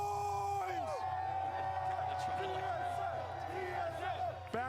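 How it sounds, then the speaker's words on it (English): An esports event crowd chanting TSM and cheering, a dense, continuous roar of many voices with rising whoops and shouts layered over a constant low hum throughout. "The TSM chants are ringing through this crowd."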